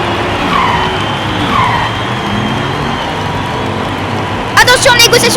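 Race cars, a Jaguar, a Karma and a Ford among them, skid and scrub tyres wheel to wheel through a race, a steady engine and tyre roar with a louder burst of screeching near the end, under an excited commentator's voice.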